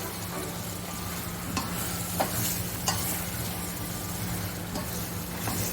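A spoon scraping and stirring turnip cubes in a pan over a steady sizzle, with a few sharp clinks against the metal.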